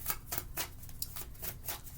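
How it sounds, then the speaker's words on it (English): A deck of reading cards is shuffled up close, with a rapid run of crisp papery riffles and snaps in quick bursts, no voices. "So we're going to shuffle some more"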